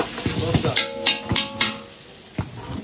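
Bay leaves and dried red chillies fry in hot oil in a pan, a close sizzle broken by several sharp stirring knocks and scrapes against the pan.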